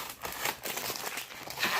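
Plastic packaging and tape crinkle and tear as an Iron Studios Wonder Woman 1/10 Art Scale statue is unboxed, a close, steady rustling with small sharp crackles throughout.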